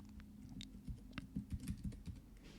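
Quiet, close tapping of a computer keyboard, a short irregular run of keystrokes with no talking over it.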